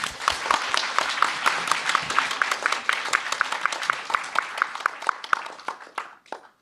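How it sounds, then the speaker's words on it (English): Audience applause for student teams at the final round of a university international case competition, a moderate, fairly even patter of clapping that carries on for several seconds before tapering off. "let's give all of them a big hand of applause"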